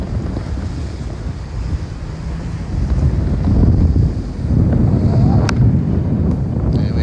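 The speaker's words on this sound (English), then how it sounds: "Wind keeps increasing while we're out" Strong wind at sea off Cape May Point, buffeting the microphone from a boat's bow with a loud, rushing roar and surging gusts, water washing underneath and no talk.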